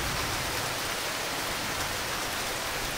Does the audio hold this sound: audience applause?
no